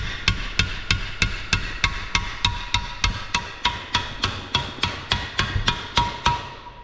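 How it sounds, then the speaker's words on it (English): A brass hammer strikes a transmission input shaft, seating a bearing in an early Ford transmission, in a steady, evenly spaced series of about twenty ringing taps, close and moderately loud, with no talking. "Take our brass hammer."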